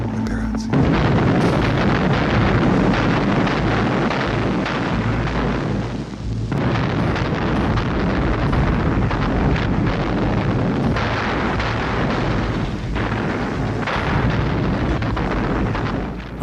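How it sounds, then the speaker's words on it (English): A Soviet artillery barrage at Leningrad in January 1944, a dense, continuous roar of heavy gunfire and explosions sustained at high volume throughout. "But these were our shells, artillery preparation for our operation."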